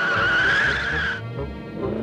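Cartoon car skids to a stop with a loud rising tire squeal that breaks off sharply partway through, followed by a low rumbling settle.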